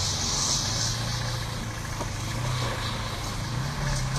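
A Casalini Twist microcar's small engine runs straight up to high revs just after starting, a steady, loud buzzing drone that holds at raised speed with slight fluctuations throughout.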